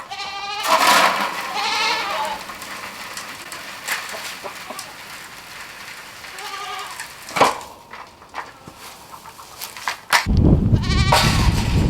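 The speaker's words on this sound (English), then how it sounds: "The goats and Daisy are out enjoying the weather today. They know it's feed time." Goats bleat repeatedly on a farm at feeding time, several calls close by at varying pitch, with other livestock sounds and a loud burst of noise near the end.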